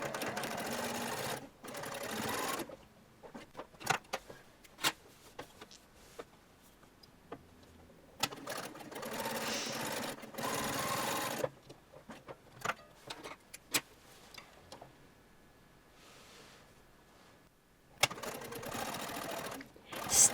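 A domestic sewing machine stitches the front of a shirtwaister dress in several bursts of steady, rapid whirring, separated by pauses with soft clicks and handling noises, heard up close.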